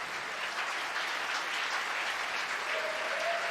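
Applause from a snooker arena audience next door, steady muffled clapping that carries on evenly throughout at a low level.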